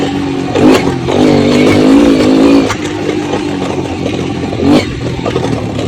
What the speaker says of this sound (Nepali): मेरो बाइकको खतरै साउन्ड थियो